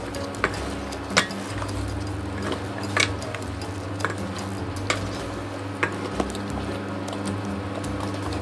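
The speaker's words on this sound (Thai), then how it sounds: "ผัดฟักทองให้เข้ากับพริกแกงก่อนนะครับ" Pumpkin being stir-fried with curry paste in a pan for a pumpkin and pork belly curry: a soft continuous sizzle beneath a low hum, punctuated by occasional sharp clicks of a utensil against the pan, with no talking.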